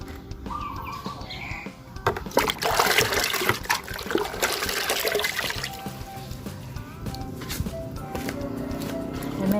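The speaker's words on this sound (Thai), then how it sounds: "รดในชุ่มๆเลยนะคะ" Water poured over a potted emerald plant, a mix of water with vitamin B12 and sugar, splashing and trickling steadily over soil and leaves, up close, with someone talking over it throughout.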